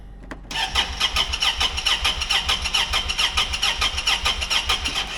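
A side-by-side UTV engine cranks with a sharp click, then chugs in a loud, steady pulsing rhythm close by, straining as if about to stall, with no talking.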